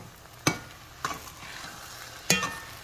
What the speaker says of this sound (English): I'm going to go ahead and stir this